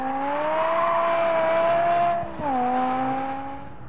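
A BMW M5 and M6 lap a technical race track with heavy braking, a loud sustained engine drone whose pitch rises gradually, dips sharply as the car lifts off, then resumes at a lower steady note.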